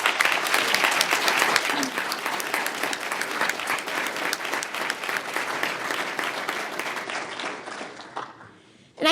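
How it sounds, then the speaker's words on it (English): Attendees at a Quincy city council meeting break into loud, sustained applause, many hands clapping close by for several seconds before tapering off, with a few voices mixed in and a speaker resuming at the end. "Can we give a round of applause,"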